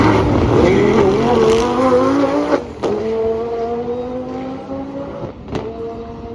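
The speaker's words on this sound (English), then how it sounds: "I decided to race this Gallardo against Mark McCann's Brabus GLE." A Lamborghini Gallardo and a Brabus GLE drag race down a quarter-mile strip at Santa Pod, loud engines revving and climbing through several gear changes with sharp shift breaks and a brief tire chirp.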